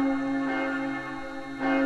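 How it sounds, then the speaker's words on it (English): Church bell sound effect from a Technics KN-1000 keyboard, a sustained bright ringing tone with a second strike swelling in near the end, clean and fairly quiet. "everything from cities to church bells"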